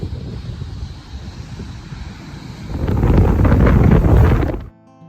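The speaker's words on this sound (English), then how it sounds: "We've had 20-mile-an-hour winds all day long." Strong wind buffeting the microphone on a blustery day at Edisto beach, a steady low roar that swells louder midway and then cuts off abruptly near the end.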